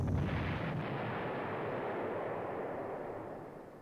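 Artillery fire in the World War II strategy game Panzer Corps, a single deep, muffled boom that rumbles and fades slowly over several seconds, fairly quiet and heard alone.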